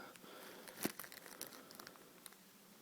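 Plastic bag crinkles and rustles close by in quiet, irregular crackles, with one sharper crunch partway through and no talking.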